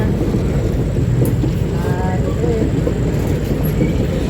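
A train running along railway tracks near a culvert, a loud steady low rumble throughout with faint squeals of wheels on rail drifting through.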